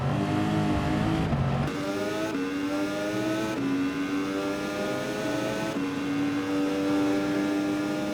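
A Gr.3 race car in Gran Turismo 7 at Suzuka drops its engine note under braking, then climbs steadily back up through the revs as the throttle comes back on, a loud, continuous engine whine with gear changes and no voices.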